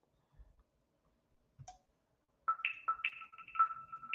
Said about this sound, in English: I ain't answering their notification.